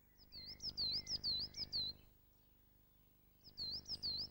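Coal tit singing a loud, thin, repetitive song of high see-saw phrases, a run of about eight notes, a pause, then the phrase resumes briefly, with faint low background rumble.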